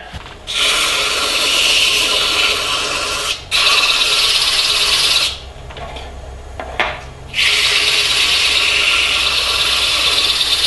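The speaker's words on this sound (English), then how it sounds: "I'm just going to sand it with the wax and mineral oil" Sandpaper rubs a wood-turned BBQ spatula spinning on a lathe, finished with wax and mineral oil; a loud steady hissing scrape runs in long stretches with brief pauses where the lathe motor hums alone.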